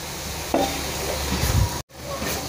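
Pumpkin sizzles in ghee as it is sautéed, a continuous close frying hiss broken by a few stirring knocks and scrapes and one brief drop to near silence.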